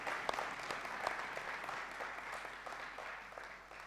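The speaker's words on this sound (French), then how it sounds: "Est-ce qu'on peut l'applaudir?" A church congregation claps in a faint, distant, steady round of applause, with a few sharper individual claps standing out.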